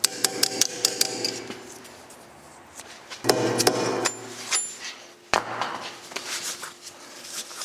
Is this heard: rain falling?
no